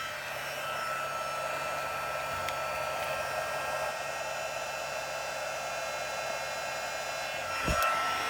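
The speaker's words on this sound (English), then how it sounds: "I'm going to take my heat tool, and you want to heat it up for about 15 to 30 seconds." Handheld craft heat tool warming up to melt embossing powder on a card, a steady loud fan-driven whoosh of rushing air that holds evenly for the whole stretch, with a short thump near the end.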